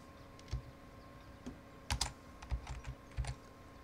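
Light clicking keystrokes on a new computer keyboard come in irregular bursts, quiet and close, with no talking.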